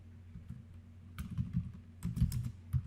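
Quiet computer keyboard typing while writing Python code, soft irregular clusters of keystrokes close to the microphone over a low background hum.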